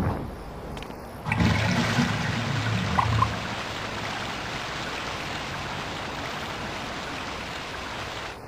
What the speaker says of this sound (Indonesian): Oke, kita siram airnya terlebih dahulu.